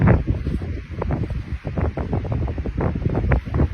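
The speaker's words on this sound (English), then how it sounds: "Oh, God, that wind is abysmal." Strong wind buffets the microphone continuously outdoors, a loud rumbling roar with gusty surges throughout and no speech.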